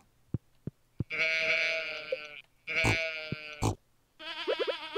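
Sheep in the Stardew Valley farming game bleat in three loud, close bursts, each a wavering baa, separated by short clicks and pauses.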